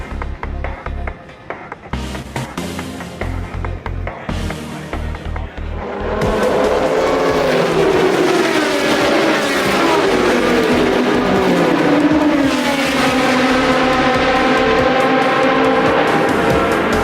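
Historic race cars, including late-80s and early-90s Group C endurance racers, pass at the Montjuic festival: nearby engines blip and shift at first, then a loud, sustained howl of cars accelerating past builds and holds.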